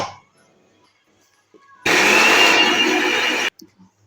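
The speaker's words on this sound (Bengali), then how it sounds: "বিউলির ডালটা খুব সুন্দর ভিজে গেছে, এটাও বেটে দিচ্ছি" A blender grinds soaked urad (biuli) dal with a little water, roaring loudly and steadily for under two seconds before cutting off abruptly, with quiet handling noises before and after.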